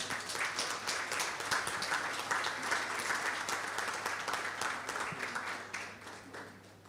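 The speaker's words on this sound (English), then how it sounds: "Please join me in giving a warm round of applause." An audience applauding in a conference hall at a forum on AI governance, a warm round of steady clapping that holds for several seconds and then gradually fades out.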